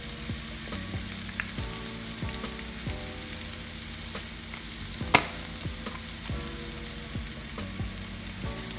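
Prawns fry in a pan with curry powder, giving a quiet, steady sizzle broken by soft stirring clicks and one sharper scrape midway.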